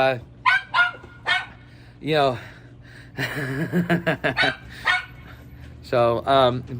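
A small golden dog barks in several short, sharp bursts at close range, with someone talking between and over the barks.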